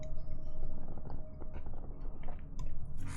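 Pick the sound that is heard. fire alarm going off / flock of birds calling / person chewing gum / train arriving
person chewing gum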